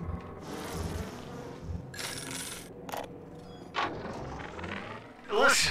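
Insect-like buzzing of bees in BioShock 2 drones under game sounds and a few short bright clinks, fairly quiet and close, with no speech over it.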